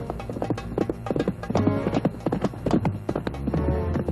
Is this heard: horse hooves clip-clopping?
yes